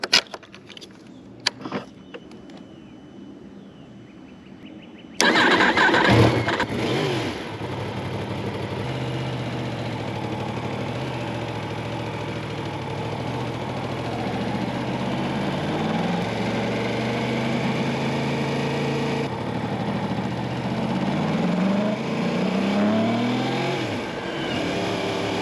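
A Yamaha R1 motorcycle starts after some faint handling clicks, then its engine settles into a loud, steady run while riding, with gradual rises and dips in pitch as it speeds up.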